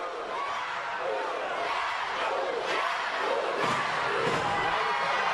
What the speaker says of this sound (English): the crowd is definitely behind Diener in this one